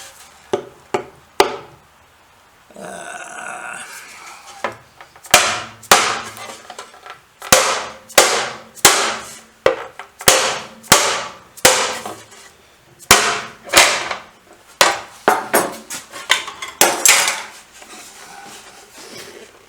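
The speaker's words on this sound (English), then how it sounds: "let me get a soft hammer." A soft hammer strikes a Royal Enfield 350 trials motorcycle's fuel tank, about fifteen loud, sharp metallic knocks in an uneven but steady rhythm, each ringing briefly, after a few scattered taps and scraping at the start.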